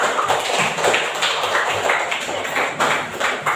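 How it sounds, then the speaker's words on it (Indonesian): A class of students applauds a group in an Indonesian school lesson, a dense, steady patter of many hands clapping together through the whole stretch, fairly close and with no talk over it. "Mantap sekali, tepuk tangan mereka"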